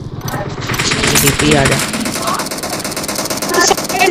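Rapid automatic gunfire in PUBG Mobile, a shooter video game, rattling fast and loud for several seconds with dense, close bursts while a player talks over it.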